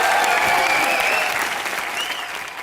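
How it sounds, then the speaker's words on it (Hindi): Loud, dense applause from a television comedy show's studio audience, Comedy Nights Bachao, a sustained wash of clapping with a few faint whoops that eases slightly toward the end. "जोरदार तालियां कॉमेडी नाइट बचाओ में।"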